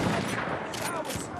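Gunfire in the Battlefield 1 video game, a dense continuous rattle of shots close by filling the whole moment, with faint voices mixed underneath.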